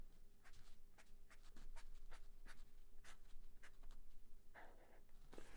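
Pen or pencil writing rhythm notation on paper, quiet close strokes and taps in an irregular rhythm of short marks over a low hum, with no speech.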